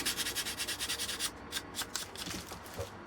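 Sandpaper rubbing along the laser-cut edges of a small balsa glider fuselage to take off sharp corners and burn marks, with a quick steady rhythm of close scrubbing strokes that gives way to lighter, scattered rubs and handling.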